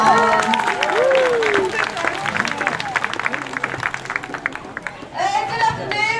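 An audience at a sea lion show in a safari park applauds with steady clapping and crowd noise. Loud whoops and cheering voices ring over the clapping, which fades partway through, and the cheers rise again near the end.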